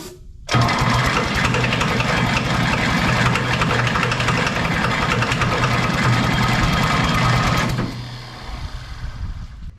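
A 1960 John Deere 1010 tractor engine with a failing starter cranks and chugs in a loud, steady rhythmic churn for several seconds, then drops to a rougher, quieter running sound near the end.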